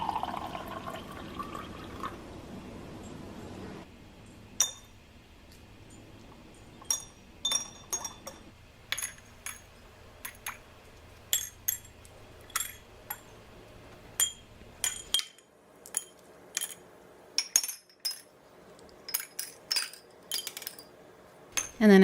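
Small stones drop one by one into glass jars partly filled with water, each landing with a bright clink or splash, in an irregular series of close, crisp hits over faint background hiss.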